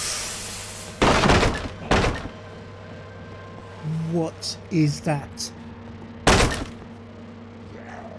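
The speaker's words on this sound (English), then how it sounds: "Wait, no, it's breaking the door, it's breaking the door." In a Minecraft horror game, a creature bashes at a door: heavy, loud wooden thuds and cracks land in separate blows, with a pause before the last one, while a person speaks between them.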